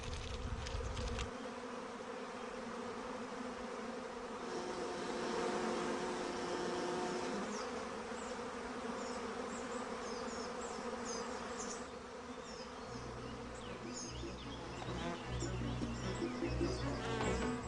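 A swarm of honeybees clusters tightly around their queen, producing a continuous, droning buzz that swells and eases slightly over time, with no talking.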